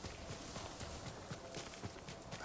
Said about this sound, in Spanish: Qué caballo también entrenado tenemos